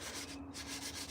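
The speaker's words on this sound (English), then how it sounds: "Sanding it and shaping it." A carved wooden spoon is sanded by hand in a workshop, close-up rhythmic rubbing strokes with one short pause partway through.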